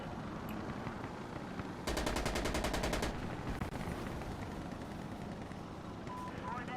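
Gunfire in Insurgency: Sandstorm, a fast automatic burst of around a second, loud and rapid. Scattered distant shots and combat noise follow, and a player talks quietly in the background.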